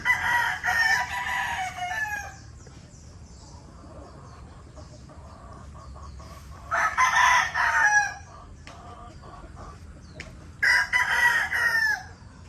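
A rooster crows three times in loud, drawn-out bursts separated by pauses, with quieter clucks and rustling in between.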